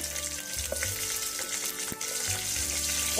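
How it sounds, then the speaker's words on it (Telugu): Green chillies crackle and sizzle in hot oil with cumin and mustard seeds for an Andhra-style onion pulusu, a steady loud frying hiss with occasional spoon scrapes, close and alone. "ఒక 2 పచ్చిమిర్చి వేసుకుందాం"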